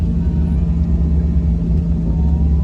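A 50 horsepower multi-cab engine drones steadily while driving along a road on Biliran Island, with a loud, constant low rumble close by and no talking.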